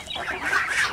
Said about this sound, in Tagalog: Pinakamatanda naming manok, eto.